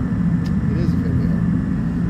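An aircraft engine in the X-Plane flight simulator game drones steadily as a loud, even hum, with a voice faintly present over it.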